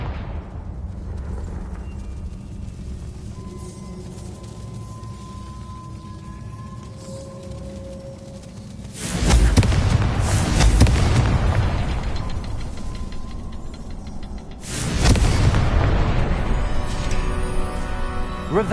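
Two loud, booming fire-spell blasts go off in the Hogwarts Legacy video game, each a sudden explosive burst followed by a rumbling decay, set over a quiet ambient game soundscape.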